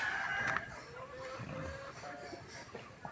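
Chickens cluck and a rooster briefly calls outdoors, with faint background ambience throughout.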